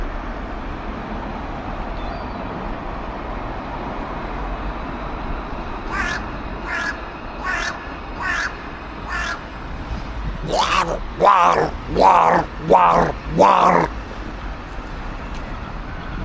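A grey-chested crow caws outdoors over distant road traffic, first five spaced calls, then a louder, closer run of harsh caws about a second apart.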